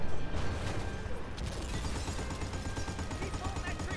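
Mounted gun firing in the Bad Company 2 video game, a steady dense rattle of rapid shots running the whole time at constant loudness, with faint mechanical clatter mixed in.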